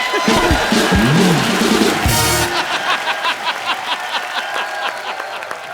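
A studio audience on a comedy talk show bursts into loud cheering and whooping, then settles into rhythmic clapping that continues to the end.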